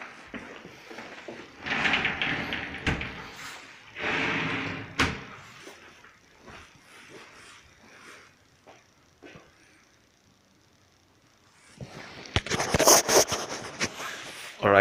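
Sliding doors of a shower box with a ceramic shower tray rolling open and shut in a few short bursts, with sharp knocks as the panels meet their stops, ending in a louder run of rattling slides.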